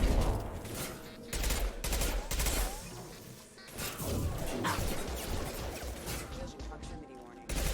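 Shotgun blasts ring out in a Mass Effect 2 firefight, several loud punchy bursts with crashing impacts spread across the stretch, set against dense battle noise and a voice speaking.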